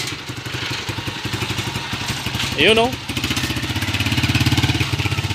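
Motorcycle engine running after a crankshaft thread repair, idling close by with a steady, rapid putter and a brief rev in the middle, while people talk over it.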